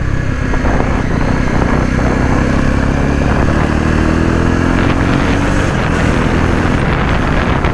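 A Jawa 42 BS6 motorcycle being ridden on the road, its engine a steady low drone under dense wind rush that stays loud and constant throughout, with no talking.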